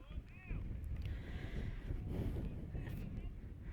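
Steady, loud wind roars and buffets the microphone at a baseball game throughout, a low rumbling rush with no break.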